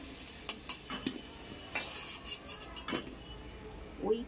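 Potatoes frying in a pan of oil are stirred with a utensil, giving soft scraping strokes and scattered clinks over a low, steady sizzle, close and fairly quiet with no talk.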